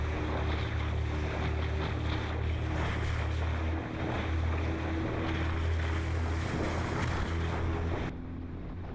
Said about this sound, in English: Some boat driving shots here.